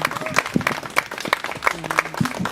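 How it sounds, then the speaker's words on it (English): A round of applause breaks out at a queer literature event at a book fringe festival. The clapping is moderate and continuous, with voices talking over it. "Please join me in a round of applause for these two lovely people."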